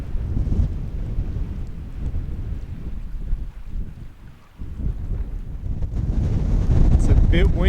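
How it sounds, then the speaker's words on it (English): Strong wind buffets the microphone on a small mountain island near Snowdon in winter rain, a deep, rough, gusty rumble that dips briefly in the middle and surges louder toward the end. "It's a bit windier than mountain forecast predicted though"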